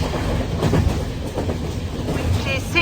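Steady low rumble of a moving train interior, with rhythmic rattling and faint clatter throughout; no clear speech.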